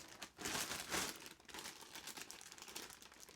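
Plastic bags crinkle and rustle close by while someone sorts through a box of spare electronics parts, in continuous soft crackling bursts without speech.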